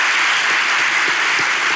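Dense, loud, continuous applause from a studio audience at a Turkish comedy talk show, a steady wash of many hands clapping at once with no voices over it.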